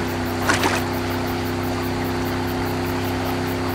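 A boat motor hums steadily with low tonal drone throughout, the sound of a boat arriving in an animated cartoon, with a brief splashy burst near the start.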